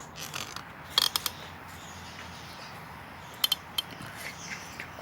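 Scissors snip woolen yarn in a few quiet, brief clicks at close range against a faint background hiss.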